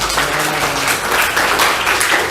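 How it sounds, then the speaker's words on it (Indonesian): Sustained applause from a crowd, steady and dense clapping throughout with no pauses. "tepuk tangan buat Mas Bara"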